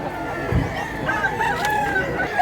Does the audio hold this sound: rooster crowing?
yes